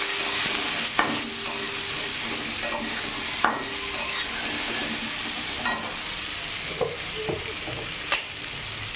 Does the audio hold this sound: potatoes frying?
yes